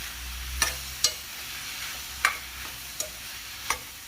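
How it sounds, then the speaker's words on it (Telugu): A spoon stirs ivy gourd curry seasoned with salt and turmeric in a pan. Six or so soft, scattered scrapes and taps sound over a faint, steady sizzle. "దీన్ని బాగా కలబెట్టాలి."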